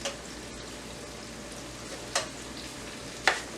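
Onions seasoned with salt browning in a pan for homemade potato soup, giving a soft, steady sizzle with a couple of small clicks from stirring.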